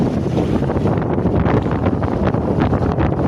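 Strong, gusty typhoon wind roars steadily at a fishing port harbor in Puerto Princesa City, buffeting the microphone, with a faint wash of water underneath.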